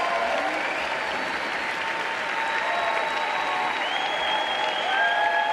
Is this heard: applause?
yes